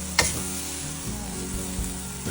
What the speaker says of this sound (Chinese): 熏肉炒大葱